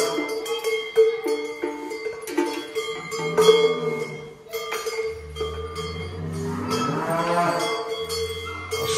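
Cowbells clank steadily on grazing cattle at a mountain farm pasture, with cows mooing loudly and repeatedly over the bells throughout.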